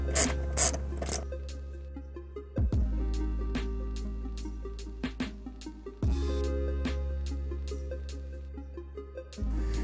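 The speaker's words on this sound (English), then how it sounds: "we do have to take this rail guide out, and then we'll have access to the subwoofer screws" A ratchet unscrews the seat rail guide inside a car fitted with race seats, giving rapid clicking pawl bursts between steady runs of fine ticking, with a few louder clunks as the tool repositions.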